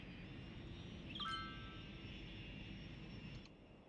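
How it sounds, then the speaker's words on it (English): Jet plane engine in the Cities Skylines city-building game, a steady airy roar with a brief high chime partway through, faint and continuous. "Jet plane going places."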